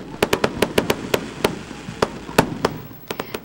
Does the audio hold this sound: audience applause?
no